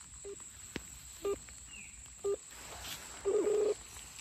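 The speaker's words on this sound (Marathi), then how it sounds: "फोन लग गया" A mobile phone call is dialed and connects: a few short electronic tones sound at even intervals, then a longer ringback tone near the end, against quiet background noise with insects faintly audible.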